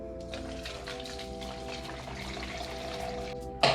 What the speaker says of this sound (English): now we're gonna slowly pour the solution into the wide mouth